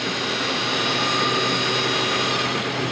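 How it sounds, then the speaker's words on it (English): A wood lathe spins a eucalyptus handle for a measuring spoon, producing a loud, steady broadband whir and hum that runs without pause throughout, heard close and with no voices. "Turn that lathe down a little bit."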